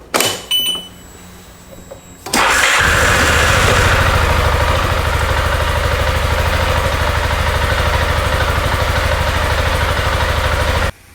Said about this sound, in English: you can start it up and let it idle for 3 to 4 minutes